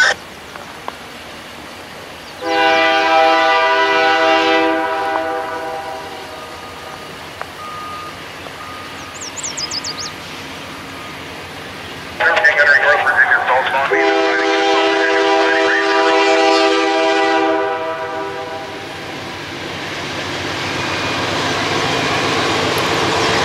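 A Canadian National freight train in the North Woods sounds its multi-tone horn in two long blasts, with bell-like tones and the rumble of the train passing close by underneath.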